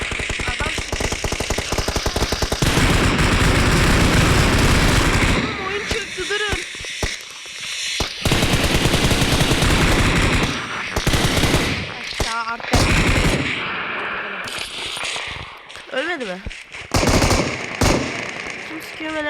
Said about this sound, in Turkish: Kim sıkıyor ve nereden sıkıyor?